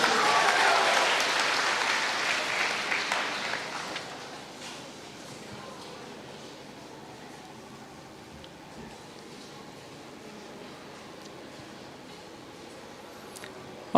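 Audience applause for contestants advancing to the second round of a state-level inter-school championship at an education festival, a loud burst of clapping over the first four seconds that fades into low room murmur.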